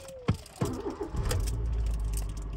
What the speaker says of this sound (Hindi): अच्छा जी गाड़ी को करते हैं स्टार्ट